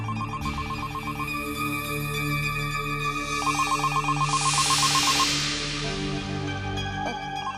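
A telephone rings in repeated electronic bursts, loud and close, with a rising swell of noise in the middle and no speech.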